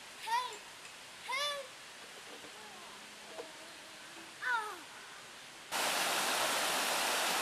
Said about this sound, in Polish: Kaskada wodna na potoku płynącym przez Kocie.